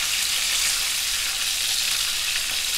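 Floured beef rolls fry in a pan, giving a continuous loud, bright sizzle that holds steady and even from start to finish with no voices over it.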